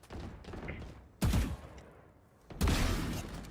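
Gunfire in the video game Valorant during a semi-final match: two sharp bursts of shots over a busy, rumbling game mix, fairly faint.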